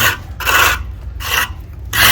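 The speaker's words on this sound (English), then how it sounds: "You want to make sure you scrape off anything heavy on that joint." A hand tool scrapes dry stucco mud off a joint in a wall repair, giving three loud, close, rasping strokes with brief pauses between them and no talking.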